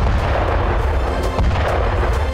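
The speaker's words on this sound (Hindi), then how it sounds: "ताबड़तोड़ बारूद उगलने वाली नई वॉर मशीन का नाम है K9 वज्र।" K9 Vajra self-propelled howitzer artillery of the Indian Army firing, a loud, dense rumble of booming blasts with sharp reports cutting through a continuous heavy roar.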